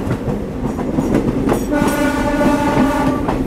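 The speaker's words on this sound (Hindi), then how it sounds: "और सामने से ट्रेन आ रही है भाई।" A Pathankot–Amritsar local train rumbles closer with rattling wheels and a sustained horn blast rising over the clatter, loud and near.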